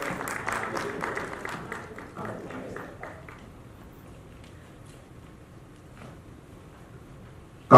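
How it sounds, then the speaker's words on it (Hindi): An audience at a stage event claps to welcome a speaker, educationist Mrs Rekha Chauhan. The dense clapping is loudest at the start, thins out after about three seconds and trails off into quieter room sound. "तालियों से स्वागत कीजिएगा"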